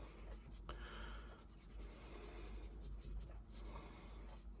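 A Blackwing extra firm pencil is drawn across paper, making a soft, close scratching and rubbing sound in steady strokes that continue for several seconds with no talking.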